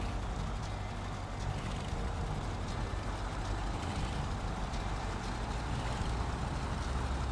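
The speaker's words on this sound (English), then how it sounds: "I love how this truck sounds." Steady, loud rumble of a heavy truck engine in the off-road driving game Snowrunner, a continuous low drone that holds without a break throughout.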